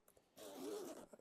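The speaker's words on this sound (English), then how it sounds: "Let me undo the zipper. It's one of those nicely hidden zippers." A hidden zipper on a headphone carry case for 1MORE SonoFlow Pro headphones is pulled open in one smooth, close, quiet rasping stroke lasting under a second.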